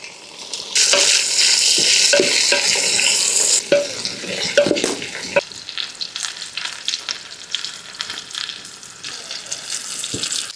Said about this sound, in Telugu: ఇప్పుడు టమాటా కూడా వేసుకుందాము